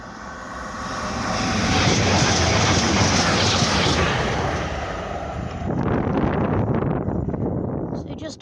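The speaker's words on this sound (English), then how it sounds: "So here she comes, 1A66, another Grand Central DMU." A Grand Central DMU train passes a level crossing at Grassthorpe Lane, a loud sustained diesel engine roar and rushing rail noise building, holding, then shifting as it goes by, with a voice speaking over it.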